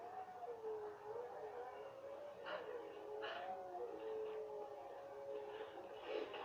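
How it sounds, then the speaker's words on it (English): Wolves howl in the distance in the game Rise of the Tomb Raider, long wavering faint howls over low ambient wind, with a few soft extra calls mixed in. "The howling of wolves in the distance."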